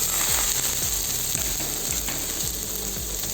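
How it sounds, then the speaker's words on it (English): Sliced onions sauté in a hot pan with a steady, close, dense sizzle and crackle, joined by rhythmic scraping as they are stirred. "Now saute it till light golden brown"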